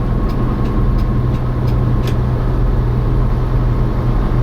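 An old Hino truck diesel engine drives along with a loud, steady low rumble and a constant drone. It runs continuously with no talking.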